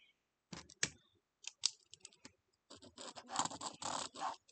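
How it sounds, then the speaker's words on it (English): A pen scratches lines onto quilt fabric in short, dry strokes, several quick bursts followed by a longer stretch of scratching, close and quiet. "We're going to draw a line down the middle, both ways."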